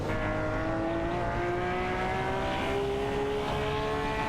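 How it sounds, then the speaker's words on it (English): An Audi R8 and a Porsche 911 GT2 RS race in a racing video game, a steady engine whine with rising tones under a continuous roar and no pauses. "Dovdad and Super Lacroix are maneuvering their Audi R817, while Buxizro is putting up a fight with the Porsche 911-991 GT2 RS"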